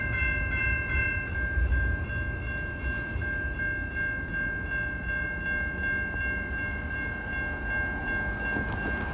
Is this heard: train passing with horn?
yes